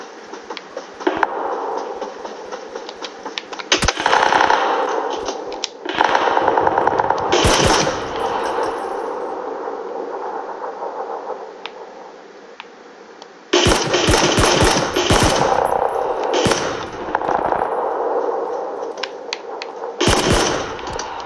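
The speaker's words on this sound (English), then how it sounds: "Pretty sure someone just took a pot shot at me." Gunfire in the video game PUBG: loud bursts of rapid automatic shots, separated by short pauses and heavy booming sections, with no voices.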